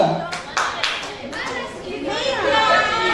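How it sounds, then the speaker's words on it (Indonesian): A group at a chemistry teachers' training workshop gives a rhythmic triangle clap, a few sharp, evenly spaced claps near the start, while voices talk and chatter through the rest. "Kita beri tepuk segitiga untuk kelompok asam basa."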